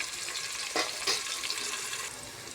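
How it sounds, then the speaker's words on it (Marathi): Paneer fries in hot ghee with a steady, hissing sizzle and a couple of brief spattering bursts near the start, heard close with nobody talking. "आपण त्याच्यात आता पनीर फ्राय करून घेऊ."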